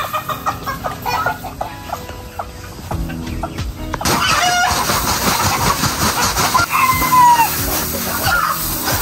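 Heritage and native chickens cluck and chatter nearby in the Philippines, several birds at once, with occasional louder squawks and rustling.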